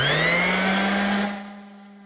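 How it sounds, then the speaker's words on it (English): A random orbital sander with 120-grit paper does finish sanding on a carved wood heart, buzzing loud and steady, then shutting off and winding down to a fading hum. "Now I'll do my finish sand with my random orbital and a 120."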